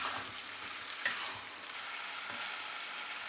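Mutton sprinkled with turmeric powder fries in a pan with a soft, steady sizzle, with faint scraping as it is stirred, heard up close but quiet.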